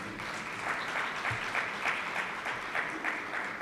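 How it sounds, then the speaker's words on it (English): Audience applause at the JTA Roll of Honour Award 2022 ceremony, a soft, steady patter of many hands clapping, somewhat distant and even throughout with gentle swells. "go ahead and give him a round of applause"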